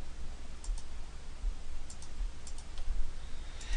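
Quiet computer mouse clicks, a few soft sharp clicks spaced apart over faint room hiss, close and dry.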